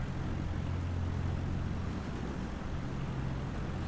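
A single-engine propeller airplane taxis out, its steady low engine drone and rumble continuous and close, with wind noise in the background.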